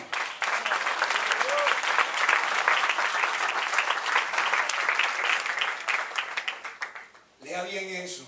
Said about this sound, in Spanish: Aplaude, aplaude, hermano.